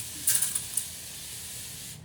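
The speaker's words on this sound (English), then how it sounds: "just give it a good shake and then spray it all over my face" A short spray of facial toner mist hisses from a pump bottle onto a face, a soft airy burst of a second or two against quiet background noise.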